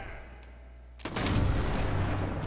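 Gunfire in the video game Sniper Elite 4 erupts after a quiet second, a sudden loud burst that leaves a sustained rumbling roar of shots and explosions.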